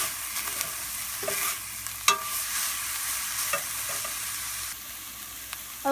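Chicken cooking in olive oil over medium heat for Thai mint chili chicken, a continuous bright sizzle broken by several sharp clacks of a utensil stirring the pan, with no voices.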